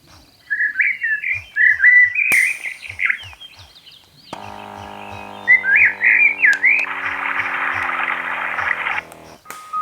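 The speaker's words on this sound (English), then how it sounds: "it does have some nature, bird chirping, waterfall, that sort of stuff, which helps you relax." A relaxation soundtrack from a Bluetooth eye massager plays looping bird chirps and whistled calls over a soft ticking pulse, later joined by a steady hiss of rushing water.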